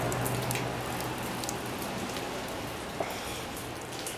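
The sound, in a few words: rain falling outside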